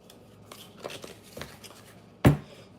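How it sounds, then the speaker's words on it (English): Tarot cards being shuffled by hand during a reading: a few soft, brief riffling and sliding rustles, then one sharper close snap of cards near the end, otherwise quiet. "Let me shuffle again."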